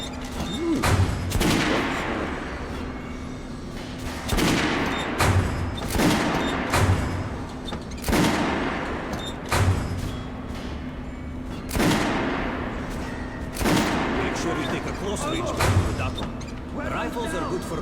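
Guns are test-fired on a shooting range in Metro Last Light Redux, with repeated bursts of loud gunshots broken by short pauses over a constant low hum, and voices faintly in the background.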